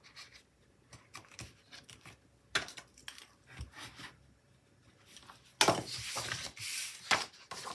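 Scissors snip and trim a decorative sticker sheet down to bookmark size, making soft cutting and rubbing sounds with a few sharper crisp cuts near the end, heard close up in a quiet room.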